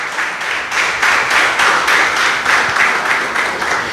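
A church congregation applauds together in a steady, loud wash of clapping, with rhythmic pulses suggesting some of the crowd claps in unison throughout.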